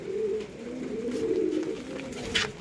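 Pigeons coo softly in a low, steady warble during a rainy spell, with faint patter and background hiss around them.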